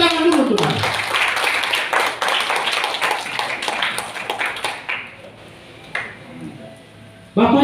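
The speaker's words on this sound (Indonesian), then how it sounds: "Tepuk tangan dulu untuk Anda." An audience at a university inauguration ceremony for student body officers claps in a dense, lively burst of applause that rings for several seconds and then tapers into a quieter room with a few stray claps.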